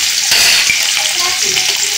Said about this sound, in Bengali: আলু একটু যে হালকা ভাজা ভাজা হয়ে যাবে